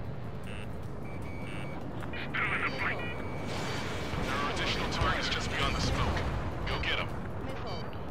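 Anti-aircraft guns on enemy warships in the combat flight game Ace Combat 7 thud and rumble continuously beneath a loud jet drone, with intermittent cockpit warning beeps and rising bursts of flak.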